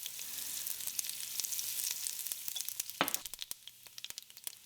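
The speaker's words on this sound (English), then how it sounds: "Add mustard seeds, cumin seeds, and a little bit of hing." Mustard seeds, cumin seeds and hing dropped into hot oil over medium heat, a close steady sizzle with scattered crackling pops that thin out toward the end.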